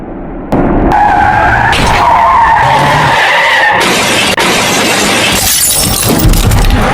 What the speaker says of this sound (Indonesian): Detik-detik bus lepas kendali saat hujan deras akibat jalanan licin dan menabrak beberapa kendaraan lain hingga terguling.